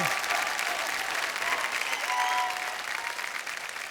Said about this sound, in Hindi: भाई साहब जोरदार तालियां हो जाए फॉर द बेस्ट डांसिंग जोड़ी of Nach Baliye 8, Abigail and Sanam.